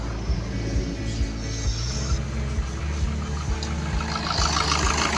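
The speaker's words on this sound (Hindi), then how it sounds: "ये आप सब देखो इंजन अभी स्टार्ट है।" A Maruti Suzuki Ciaz, which has a charging system fault, idles with a low, even engine throb and faint regular pulses, heard up close and alone without any talk.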